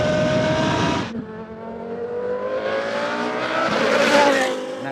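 Race car's bespoke naturally aspirated V10 revving hard and close, a loud high-pitched scream that drops sharply after a lift, then climbs again toward a howling peak.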